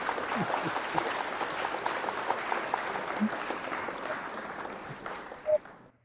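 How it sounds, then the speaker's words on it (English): A group applauds with a dense burst of clapping that runs for about five seconds, then stops abruptly, followed by a short electronic tone. "Let's applaud."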